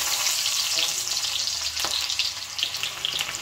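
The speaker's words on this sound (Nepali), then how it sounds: "अब त्यो अण्डा फ्राई गरेको तेलमा नै एउटा प्याजलाई नि मसिनो टुक्रा गरेर यसरी म फ्राई गर्दै छु" Finely chopped onion sizzles in the oil left over from frying eggs, a loud, steady crackle broken by occasional stirring scrapes.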